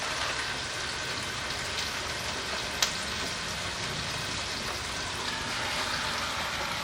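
Chuck roast searing in a Ninja Foodi pot on saute mode inside an RV kitchen, a dense, even sizzle with a soft crackle throughout and one brief sharp tick near the middle.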